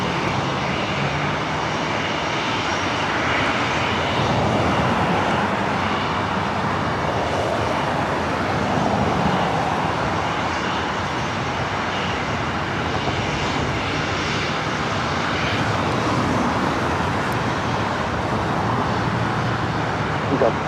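A Delta 757 airliner taxiing and taking off at LAX, producing a broad, continuous jet-engine roar that holds steady and loud throughout, with faint background noise.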